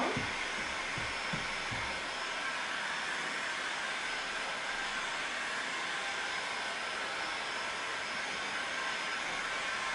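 A hair dryer blows continuously to dry a painted Valentine's tray, a steady close whooshing roar that holds for the whole stretch without pause.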